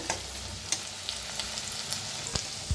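Potatoes fry in a pan with a soft, steady sizzle dotted with regular light crackles and pops, fairly faint and with no talking.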